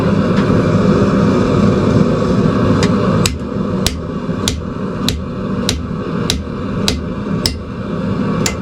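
Hammer strikes a chisel into a hot railroad spike while forging a camp hatchet, ringing metallic blows landing at an even steady pace over a constant loud roar of forge blower noise, no talking.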